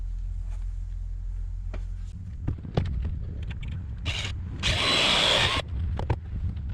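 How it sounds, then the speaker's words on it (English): A power drill drives screws at an angle into plywood flooring in a Volkswagen Passat Wagon camper build, heard as short bursts and one sustained loud whir near the middle, over a low steady hum. "Let's try to drive some of these in at an angle."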